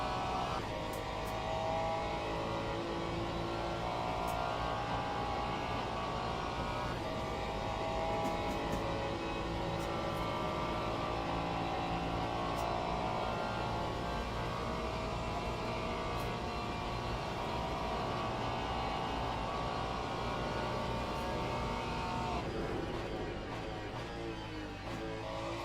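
Sim racing at Laguna Seca and Daytona in a video game: a race car engine drones steadily for the whole stretch, holding high revs with slight pitch shifts through corners and a few faint clicks, no voices heard.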